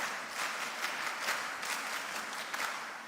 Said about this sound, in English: Okay, please, can we clap for her?